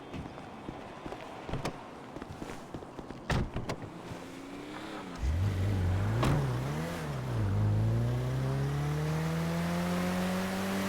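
A car in the video game GTA 5: a few clicks and thumps, then the engine starts and revs up into a steady, rising drone that holds close and loud with no one talking.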